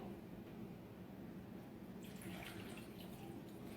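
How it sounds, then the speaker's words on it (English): Tap water runs steadily into a bowl for microwave mac and cheese, a continuous splashing stream with a brighter, busier splatter partway through, no talking. "Step is you put your water in."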